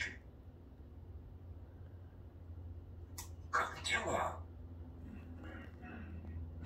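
A single short, sharp sneeze bursts out against a quiet background hum and is followed by softer rustling sounds.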